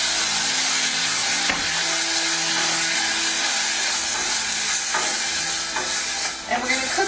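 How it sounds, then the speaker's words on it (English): Chopped rhubarb and whole strawberries stir and sizzle in a hot pan, with steady close-up frying hiss and scraping stirs throughout, no voices. "And we're going to cook these for about a minute or two, just until they soften."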